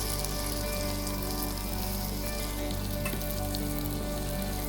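Ground masala paste of roasted ginger, garlic, onion and coconut sizzles steadily in a pan with chicken for a Malvani chicken sukka, a continuous close, even frying hiss with no talking.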